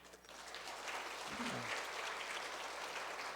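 A crowd applauds indoors at a Sunday church service in a steady, dense wash of clapping that carries on throughout without letting up.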